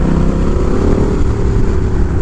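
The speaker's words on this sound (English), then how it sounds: "It's like a slightly quieter, slightly more refined Two Brothers exhaust." A Honda Rebel 1100 motorcycle with a new aftermarket exhaust running loud and close, a dense, steady throaty engine roar with no talking.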